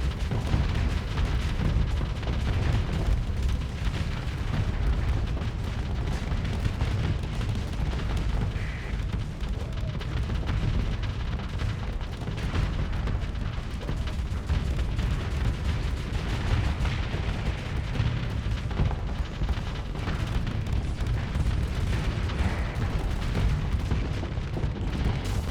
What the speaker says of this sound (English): Okay, cannons, you may fire at the overloaded enemy.